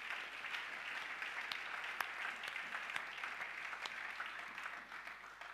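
Church congregation applauding steadily during a French-language sermon, a dense even patter of many hands with a few sharper claps, sustained throughout with no talk over it.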